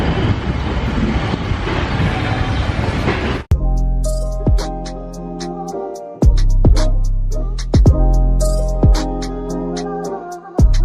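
Railway rumble at New Delhi railway station: a steady broadband roar gives way to a string of sharp metallic clanks and thuds with droning tones, like coaches coupling or rolling over joints, loud and close, with no talking.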